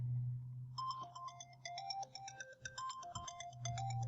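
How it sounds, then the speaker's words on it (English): A phone alarm plays the "Circuit" ringtone, a bright electronic melody of short, stepping tonal notes over a low steady hum, clear and close with no talk. "Set Circuit as your ringtone, right?"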